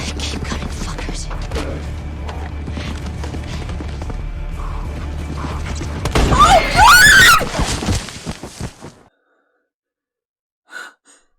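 Amid a dense, loud scene with music from The Last of Us TV series, a horse lets out a shrill, screaming whinny near the middle before the sound cuts to near silence.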